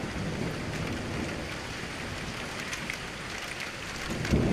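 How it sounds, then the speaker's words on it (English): Steady rain pours down in a thunderstorm, a dense, even hiss with a low rumble of thunder swelling faintly near the end, no voices. "The storm raged on outside,"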